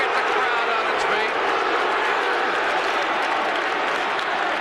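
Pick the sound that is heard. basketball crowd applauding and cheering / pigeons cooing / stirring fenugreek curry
basketball crowd applauding and cheering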